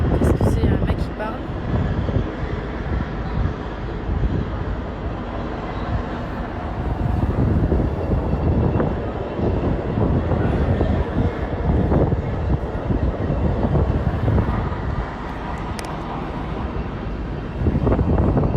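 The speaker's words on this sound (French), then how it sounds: "Des hélicoptères de partout." Continuous low rumble of helicopters overhead during riots, steady and loud, mixed with wind buffeting and scattered voices in the background.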